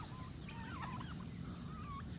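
Turkeys gobbling on a farm, warbling calls rising and falling over a steady background hum, moderately close with no talk.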